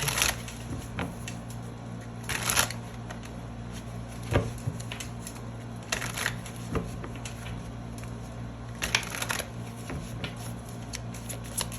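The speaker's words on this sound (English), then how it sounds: "let's pull some more cards and see what else comes out for you guys" Tarot cards shuffled by hand in several quick riffling bursts, close and crisp, separated by softer card slides and taps, with no talk.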